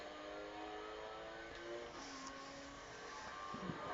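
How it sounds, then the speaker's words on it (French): A car speeds up during a test drive, its engine hum steady and moderately loud inside the cabin, holding a continuous drone that rises slightly without any voices. "accélérons un peu pour voir sa vitesse"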